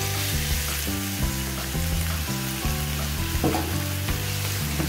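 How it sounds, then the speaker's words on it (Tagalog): Marinated pork sizzles steadily as it hits sauteing aromatics in a hot pan for pork afritada, a continuous frying hiss running the whole time beneath a steady musical backing. "While sauteing our aromatics, we will add now our pork."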